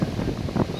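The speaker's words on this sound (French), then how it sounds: "Et le vent revient, là, c'est un peu la galère." Gusty wind at the Port Aventura theme park buffets the microphone in a brief, rough low rumble with a fluctuating roar and no voices.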